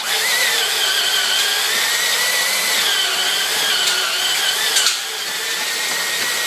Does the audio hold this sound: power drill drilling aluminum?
yes